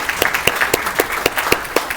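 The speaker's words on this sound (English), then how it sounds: "So please give a round of applause to Kurt." Audience applause at a university AMA award ceremony, a brisk run of sharp individual claps repeating steadily throughout, fairly close and moderately loud with no talking over it.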